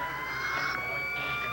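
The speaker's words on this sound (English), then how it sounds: "There's so many cop cars and sirens running around, a man can't hear himself drink." Wailing sirens with steady high tones carry through the whole clip at moderate loudness, like police cars passing nearby in traffic.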